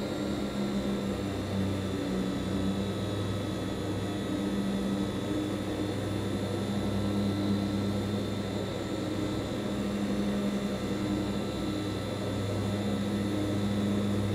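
Steady droning turboprop engines of a Hawker Siddeley HS 748 airliner in the P3Dv4 flight simulator, a continuous close hum with a low throb held level throughout the approach, no voices.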